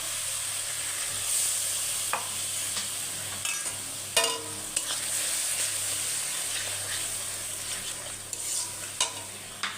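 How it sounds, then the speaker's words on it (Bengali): Spices sizzling and frying in a pan with a splash of water while being stirred for chicken keema ghugni, steady close sizzle broken by scraping stir strokes throughout. "সামান্য একটু জল দিয়ে মশলাটা ভালো করে কষবো"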